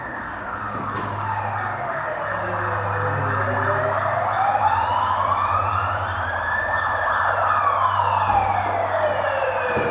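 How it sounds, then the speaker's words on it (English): An ambulance siren wails in a slow rising and falling sweep as it passes on the road outside a heritage house at a main intersection, loud and steady over a low traffic rumble with no talking. "That's an ambulance, luckily."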